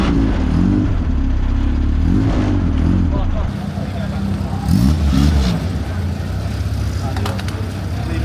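Single-seater racing cars roll off for the start of a rolling lap, engines revving and droning loudly nearby, with the roar easing as they move away and someone talking over it.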